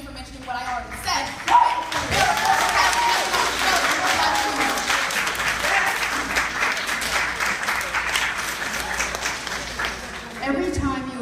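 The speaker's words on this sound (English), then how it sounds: "Every time you applaud, we are going to track how long you applaud" Applause from a debate audience fills most of the stretch as a dense, steady wash of clapping, with voices speaking briefly at the start and end.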